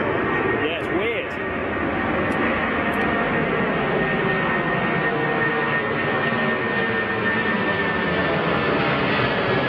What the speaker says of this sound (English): 747 coming at us.